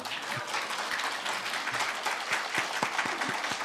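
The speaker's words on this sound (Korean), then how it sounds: "제가 이 말씀을 드리면 박수가 나올 거라고 예상을 했거든요" A church congregation at a Wednesday prayer meeting applauds steadily, a dense wash of clapping that holds at an even level throughout.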